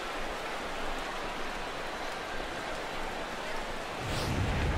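Steady rain pours in a ballpark in MLB The Show 17, a constant dense hiss that stays even throughout and deepens into a low rumble near the end.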